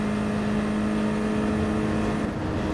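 Nissan race car in the driving game GT Sport powering hard out of a corner: a steady, loud engine drone with a strong sustained tone, continuous and close, holding across the whole moment.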